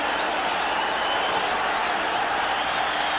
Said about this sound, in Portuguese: E a torcida fica de pé gritando Goiás, Goiás.